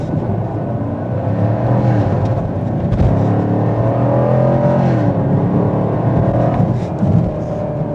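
A 2022 Chevrolet Camaro 1SS with a 455-horsepower V8 launches hard from a standstill without launch control, its engine roaring loud and steady as revs climb through the gears, heard from inside the cabin.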